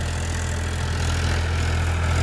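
A Powertrac 439 Supermaxx tractor engine runs at a steady idle, with a loud, constant low rumble and a diesel-like vibration close by and no talking.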